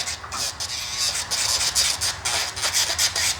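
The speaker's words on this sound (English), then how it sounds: "I just like to use the Dremel just a little bit to try to get them a little shorter, just a little shorter" Dremel rotary tool grinding a dog's nails during grooming, a close, steady high-pitched whirring buzz in short pulsing bursts as the tool touches each nail.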